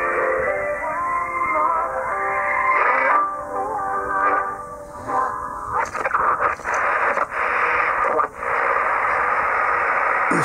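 A Collins 75A-3 shortwave receiver with narrowed bandwidth plays muffled, band-limited audio of a voice and tones over a hiss of static, steady and fairly loud, with choppy breaks toward the end.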